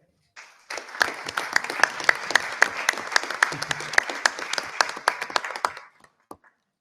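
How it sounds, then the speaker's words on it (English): An audience at a school board of education meeting breaks into applause for mentor-program teachers: a sustained round of many clapping hands, fairly close and even, fading out after about five seconds. "let's have another round of applause for all of our teachers who participated in the mentor program"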